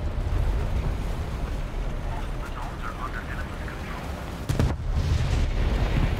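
An enemy tank firing at the player in War Thunder, a sharp boom from the cannon standing out near the end over steady engine rumble, with someone talking throughout.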